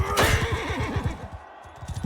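A horse whinnies loudly in the medieval combat game Mount and Blade Bannerlord, a sharp high neigh near the start that trails off over clopping hooves and battle noise.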